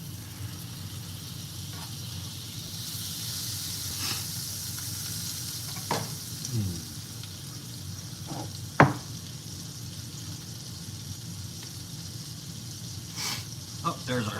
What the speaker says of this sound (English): now we're gonna add some butter to our pan